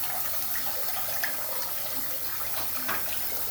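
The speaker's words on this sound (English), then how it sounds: "Water fills up." Water rises and fills a drain during plumbing work with a drain snake, heard as a steady, close, low-level wash of running and gurgling water with no talking.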